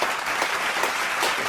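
A studio audience applauding a new co-host on a comedy talk show, a short burst of steady, close clapping.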